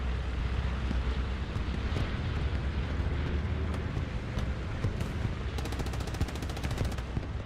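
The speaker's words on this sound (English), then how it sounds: "Bombing run is coming down from Legion" Bombing-run explosions in a competitive Hell Let Loose match, a constant dense rumble of blasts and gunfire with a rapid rattling burst near the end, no talk.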